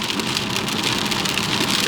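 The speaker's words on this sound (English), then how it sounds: "I don't know if the camera's picking up that rain." Heavy winter rain pours down in a dense, constant hiss and patter on the surfaces close by, loud and unbroken, with no talking.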